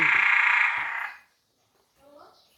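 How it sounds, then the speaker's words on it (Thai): Small frogs and larger frogs calling together in a dense, loud chorus at a rural home in Thailand, filling the first second before cutting off; a voice is heard briefly afterward. "เขียดกระตันแล้วก็กบนะคะ"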